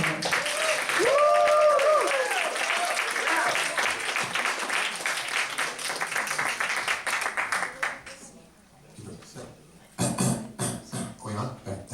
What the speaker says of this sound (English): could we have a huge round of applause for our Captain